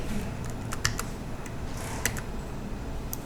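Sharp mouse clicks during dimensioning work on a Windows desktop CAD program, several isolated ticks spaced irregularly over a low steady room hum, close and fairly crisp.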